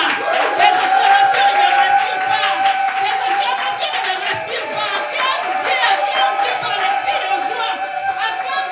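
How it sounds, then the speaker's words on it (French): A church congregation cheers and acclaims during worship, a dense sustained crowd roar with shouting voices and scattered clapping, loud and continuous throughout with sung or shouted tones on top. "J'aimerais que tu acclames très fort. Adore par tes acclamations."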